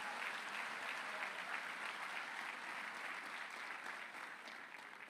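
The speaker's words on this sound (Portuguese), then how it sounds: "Vamos aplaudir o Espírito Santo que está falando com alguém hoje." A church congregation applauds in a steady, sustained wash of clapping that fills the whole stretch, easing off slightly toward the end, with no voices standing out.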